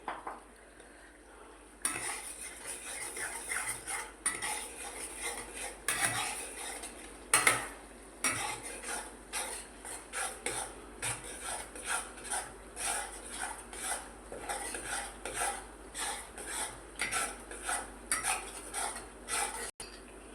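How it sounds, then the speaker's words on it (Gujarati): Spices and turmeric being stirred in a cooking pan for chole, a long run of rhythmic metal spoon scrapes and clinks against the pan over a faint sizzle, close and without speech. "હલાવી લઈશું."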